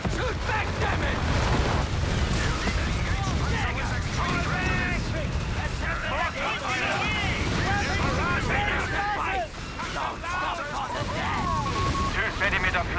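Artillery shells crash and boom among chaotic battlefield noise in the World War II strategy game Company of Heroes 3, dense layered explosions and mechanical clatter, loud and continuous, with in-game voices shouting.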